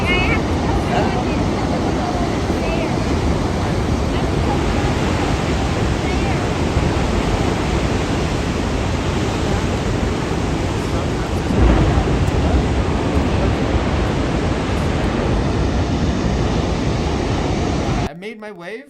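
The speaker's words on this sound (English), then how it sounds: "Physically paddle into these waves." Large ocean waves break in a surf zone far out from shore, making a loud, continuous roar of churning water that never lets up until it cuts off abruptly near the end.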